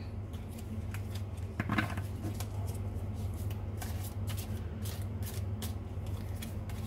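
A large deck of roughly 200 tarot cards is shuffled by hand in quiet riffling bursts with soft slaps and flicks. The sound is faint and close, set against a low background hum, and nobody speaks.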